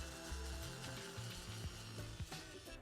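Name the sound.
power tool with fine sanding head trimming Game Boy shell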